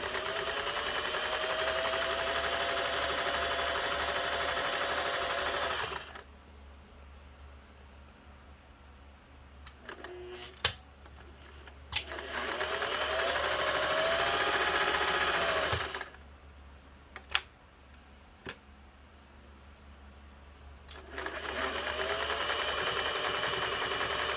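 A Singer 401a sewing machine stitches in loud, steady running bursts, with quieter pauses between them broken by a few sharp mechanical clicks.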